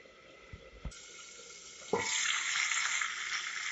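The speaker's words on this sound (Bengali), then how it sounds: "ঢাকা দিয়ে 2 মিনিট ভালোভাবে সেদ্ধ করে নেব" A covered pot of new potatoes in spiced gravy with black pepper and cumin powder, a couple of faint clicks and knocks, then a steady, soft sizzling and bubbling that swells and continues.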